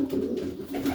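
A young dark grizzle racing pigeon cock held in the hand coos softly, a couple of low throaty rolling calls, close up with no talk.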